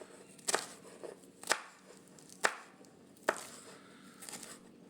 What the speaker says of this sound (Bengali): এবার মেথি শাকটা আমি কেটে নেব।